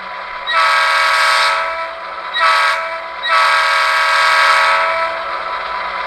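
A model train horn from a LokSound v5 DCC sound decoder in a ScaleTrains Southern Pacific SD7R locomotive sounds three blasts, long, short, then long, loud and close over a faint steady hum.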